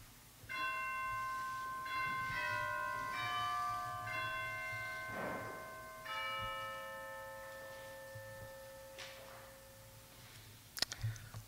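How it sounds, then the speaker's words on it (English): Church chimes ring just before a Sunday service, a series of clear bell tones in several overlapping phrases over about ten seconds, fairly loud and resonant with no talking. "If you're able, when the chimes sound,"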